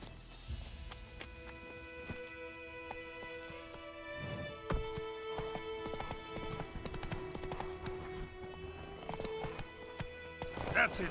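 Roach the horse from The Witcher 3 clip-clopping across the ground in steady hoofbeats, with a brief whinny, under game music and someone talking.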